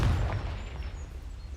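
A Confringo blasting spell goes off in Hogwarts Legacy: a short, low explosive thump at the start that quickly decays into a fading rumble.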